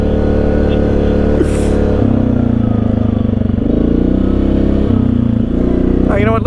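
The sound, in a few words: ATV engine while riding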